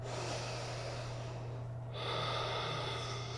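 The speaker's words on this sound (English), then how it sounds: "let's take 2 more deep breaths" Deep, slow breathing during a gentle yoga session, a long airy exhale followed by a fresh inhale, close and soft over a steady low hum.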